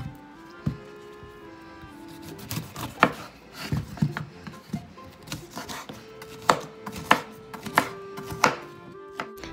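A knife chops carrots and pineapple on a cutting board for juice, giving irregular, fairly close taps and knocks with short pauses, no talking.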